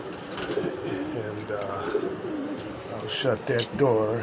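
Pigeons in a loft, with the young birds kept behind a curtain, coo and murmur steadily at close range while someone talks over them.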